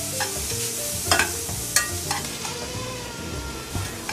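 Onions and whole jalapeno peppers fry and sizzle in a hot pan for salsa, a dense continuous crackle with occasional louder pops and stirring scrapes, close and steady, with no talking.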